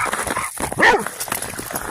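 A hound dog gives a short bark and whimper up close in a quick two-second burst, with a person's voice nearby.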